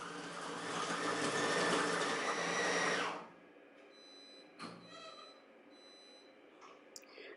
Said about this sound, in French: Choisissons la fonction hacher et mettons l'appareil en marche.